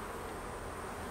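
Honey bees buzz near their hive in a steady, dense drone that holds evenly the whole time, with no voices over it.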